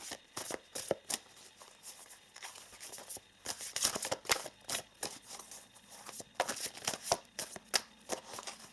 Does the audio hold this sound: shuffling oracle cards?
yes